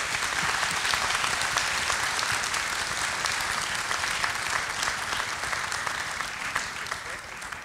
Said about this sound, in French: Et vous pouvez aussi vous applaudir bien fort.